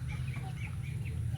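A farm chicken clucks in short soft bursts over a low steady rumble, fairly faint and close, with a few brief calls across a moment.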